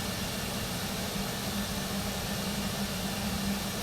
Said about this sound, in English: You can see the left engine spinning, the right engine starting up, so it's spinning a little bit less.